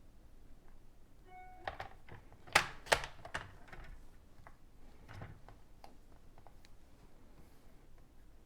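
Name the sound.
trimming a thin strip of paper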